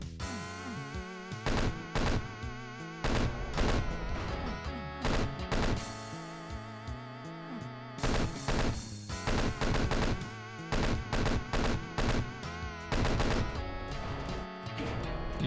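Video game weapons fire in repeated heavy blasts and impacts while shooting at targets in a level, loud and rhythmic in clustered bursts throughout.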